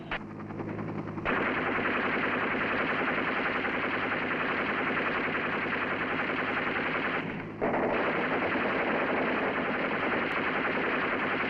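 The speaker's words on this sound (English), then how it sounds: "we'll make a firing run" A river patrol boat on a firing run in the Mekong Delta in 1967 unleashes continuous machine gun fire, a dense sustained rattle broken by one brief pause, loud and steady with no voices over it.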